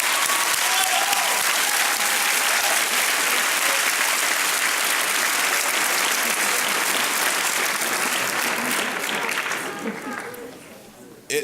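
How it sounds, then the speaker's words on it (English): Graduating students and families at an academy awards ceremony give the faculty a long, loud, dense round of applause that holds steady for about nine seconds before fading out. "If we could just give them a big round of applause"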